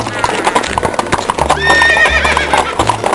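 Toy horse galloping with steady clip-clop hoofbeats and a bright neighing whinny partway through, loud and close, with no talk over it.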